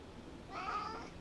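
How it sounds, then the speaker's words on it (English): A single drawn-out meow from a pet cat indoors on a rainy day, fairly close and moderately loud over a low room hum, rising and fading within about a second. "Stretching kitty."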